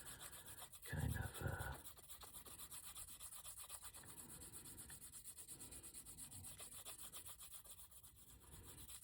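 A leather-working blade edge is honed lightly in a wallet-making workshop, giving a steady rhythmic rubbing and scraping that runs close and fairly soft throughout, with a brief louder stroke near the start.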